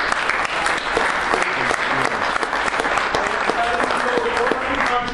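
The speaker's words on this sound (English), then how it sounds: "I think you should give your JAs a round of applause" A conference crowd at an EMC event in Minneapolis gives a round of applause, a loud, sustained and dense patter of many hands clapping without pause, with faint voices underneath.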